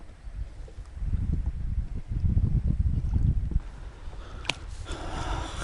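Strong wind buffets the microphone in heavy low rumbling gusts while fishing, with strong waves sloshing nearby and a brief crackle near the end.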